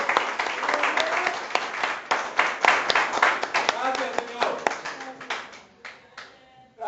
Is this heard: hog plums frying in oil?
no